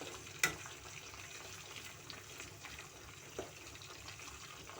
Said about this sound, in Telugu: ఇది కోకోనట్ ఆయిల్లో మరిగించాలి